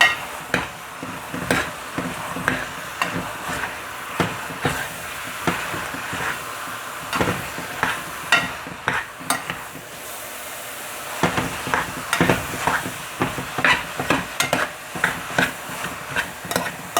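Lasagna sauce with parsley cooks in a pan under a continuous sizzle, broken by repeated clacking and scraping stirs of a utensil in an irregular rhythm, close and fairly loud, with no talking.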